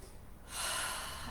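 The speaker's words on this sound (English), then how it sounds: "take a breath" A single deep inhale during a gentle stretching exercise, a soft close breath that swells into a sustained airy rush, with no talk over it.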